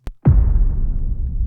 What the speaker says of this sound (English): We've got some explosions or distant explosions